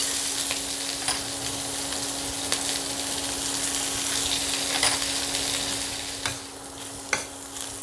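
Chopped onions fry steadily in hot oil with a constant sizzle. Occasional scrapes and clinks of stirring come through, and nobody talks.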